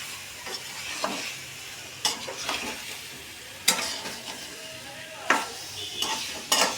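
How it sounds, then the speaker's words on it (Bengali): Ginger fries in a pan with a continuous close sizzle. Sharp clacks of a utensil scraping and striking the pan sound again and again at irregular intervals, and no one speaks. "আদাটাও একটু এখানে রান্না করে নিই এর সঙ্গে।"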